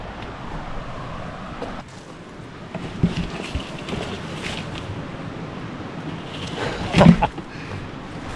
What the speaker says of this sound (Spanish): ¿Escuchan, chicos? El ruido del agua.